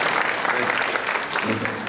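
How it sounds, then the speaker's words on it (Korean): A church congregation claps steadily in welcome and blessing for a newly married couple, a dense wash of applause filling the room for a couple of seconds, with a voice faintly audible underneath. "환영의 박수, 축복의 박수 해주시기 바랍니다"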